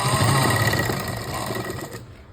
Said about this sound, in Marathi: इथपर्यंतच आपल्याला शिलाई मारायची आहे